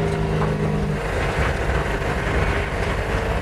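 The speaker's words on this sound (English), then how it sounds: "It's a car that runs on compressed air, called a CAT for compressed air technology." CityCAT compressed-air car engine runs with a dense, steady mechanical chugging and hiss, loud and close throughout without talk.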